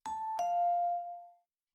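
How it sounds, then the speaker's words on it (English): Two-tone ding-dong doorbell chime from the video game Daisuki, a clean electronic ding followed by a lower dong that rings out and fades over about a second, heard alone. "Ding dong."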